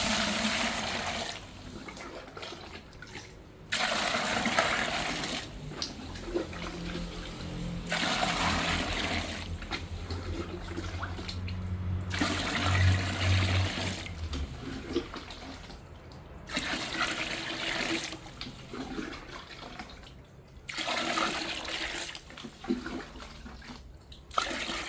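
Water poured into a container of durian skins for a fertilizer mix, a continuous gushing, splashing pour with brief pauses, close and fairly loud throughout.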